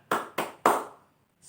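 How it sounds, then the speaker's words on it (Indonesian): Three sharp hand claps ring out in quick rhythm as a spirited group clapping routine is demonstrated, the third clap slightly stronger, followed by a brief pause and the start of another sound. "coba kita lakukan gerakan tepuk semangat"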